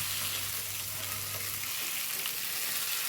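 Egg fry masala stirred in a hot pan, with a loud, continuous sizzle and frying hiss close up and faint scraping from the stirring throughout, no voices.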